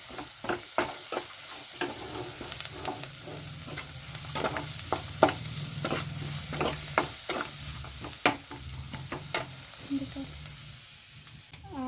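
Coriander leaves being stirred into susla, a puffed rice dish, frying in a pan: a quiet, steady sizzle broken by regular sharp scrapes and taps of the spoon against the pan, close up with no talk.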